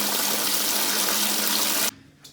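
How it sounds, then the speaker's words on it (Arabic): Cold water pours hard from a tap or shower for a shower, a loud dense steady rush that cuts off abruptly near the end, followed by a faint short splash. "ندوشو بالماء بارد"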